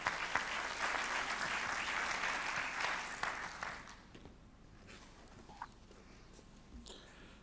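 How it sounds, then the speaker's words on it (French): A conference hall audience at a timber construction congress claps warmly for about four seconds, then the applause thins out and fades, leaving a few scattered sounds in a quieter room. "Merci de l'applaudir bien fort"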